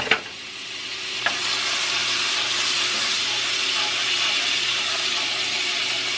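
Minced garlic sizzles in melted butter in a pan, a steady bright frying hiss after a couple of quick clinks at the start, close and continuous.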